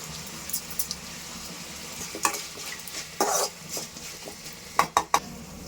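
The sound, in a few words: tomatoes, green chillies and rock salt frying in a pan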